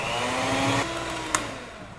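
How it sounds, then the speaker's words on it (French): An electric mixer runs at full power, beating gelatin and sugar with a steady whirring drone. Its pitch drops partway through, and a single sharp click follows. "Mettez le batteur à pleine puissance."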